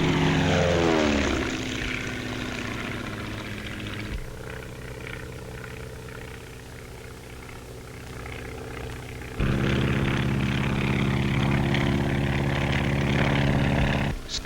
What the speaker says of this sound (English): the planes have to be strong, yet capable of a cruising speed of over 120 miles an hour